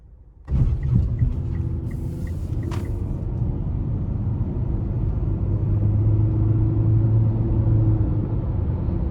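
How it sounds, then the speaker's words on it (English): Interior road noise of a 2019 Mitsubishi Outlander SEL with a 2.4-litre four-cylinder and CVT, a steady low rumble and engine drone that swells in after a soft start and holds evenly, with a few brief clicks early on. "next we're gonna take this Outlander out on the road for a quick test drive"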